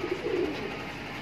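Low, soft cooing from a pair of Makoo pigeons, green Makoo for sale, sounding as a brief murmuring call close by with steady background noise and no talk.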